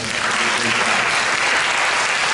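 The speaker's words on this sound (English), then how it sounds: "let's give them all a round of applause for more." An audience at a college admissions round table applauds the university representatives, a loud, dense, unbroken roar of clapping from a full room, even in level from start to finish with no talking over it.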